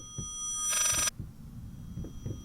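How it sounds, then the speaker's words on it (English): An electronic telephone ring in the horror game Layers of Fear sounds once as a brief, bright buzzing trill, over a low ambient drone with faint thuds. "it sounds like a phone, doesn't it? Is that a phone?"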